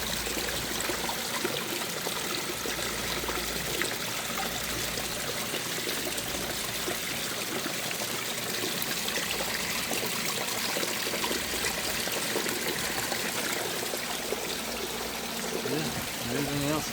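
Garden water splashes and runs down in a steady, unbroken wash that holds at an even level for the whole stretch, with no talk over it.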